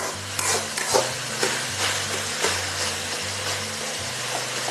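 Cashews and raisins sautéing in a pan for chicken biryani, a steady soft sizzle with repeated light stirring scrapes throughout, close and moderately loud with no talking.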